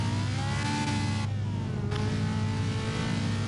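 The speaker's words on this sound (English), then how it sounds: "So there's some revving of things there." A GT4 race car engine in an online racing series revs hard and continuously, a loud, close roar that dips briefly in pitch before climbing again.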